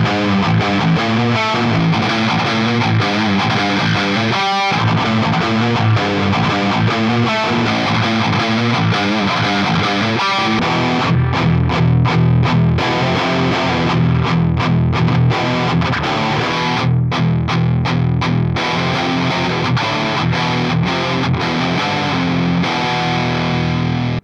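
An electric guitar plays chords and riffs through a 1994 Crate GX600 amplifier and a Klon overdrive pedal, warm, loud and driven, tighter on the low end, with brief choppy stops partway through.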